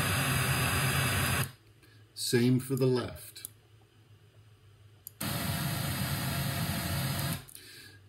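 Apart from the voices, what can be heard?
pink noise played through studio monitor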